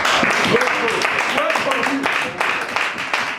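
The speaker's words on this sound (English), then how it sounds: "Clap for her again" Audience clapping at a reunion gathering, a steady dense patter of many hands sustained throughout, with voices mixing in underneath.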